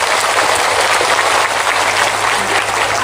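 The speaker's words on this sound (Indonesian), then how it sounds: "Tepuk tangan untuk Bu E." A large gathering at an Islamic religious sermon in Indonesia breaks into dense, sustained applause for a women's organisation official, an even wash of clapping with a low steady hum underneath.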